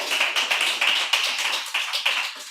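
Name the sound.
audience applause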